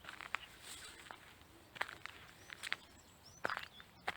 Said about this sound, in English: if I walk on the grass, it's a different sound, just a rustle